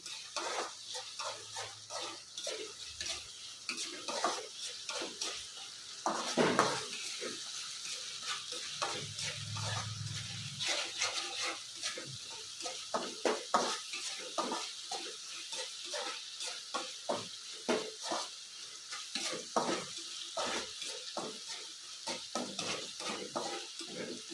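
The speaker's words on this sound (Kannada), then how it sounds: "ಇದ್ರಲ್ಲಿ ಚೆನ್ನಾಗಿ ಎಣ್ಣೆ ಬಿಟ್ಕೊಂಡು ಈ ಮಸಾಲೆ ಮಸಾಲೆಯಲ್ಲಿ ಬೇಯಬೇಕು" Masala frying in oil in a pan for dhaba-style aloo bhuna crackles and sizzles, with repeated scraping and stirring strokes of a spoon against the pan, close and moderately loud.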